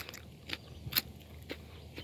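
Crisp bites and chewing on a fresh, crunchy garden-grown sugar snap pea, a few sharp snapping crunches spaced about half a second apart, close and fairly quiet, with no talking.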